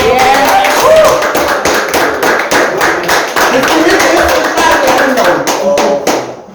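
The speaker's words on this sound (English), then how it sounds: "Give him a round of applause." Crowd applauding with dense, steady clapping that fades out near the end, with no talking over it.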